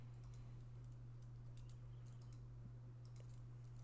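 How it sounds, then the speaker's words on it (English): Rapid typing on a computer keyboard, quiet clicks scattered over a steady electrical hum. "I'm typing on the wrong one."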